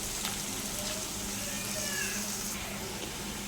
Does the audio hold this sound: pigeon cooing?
no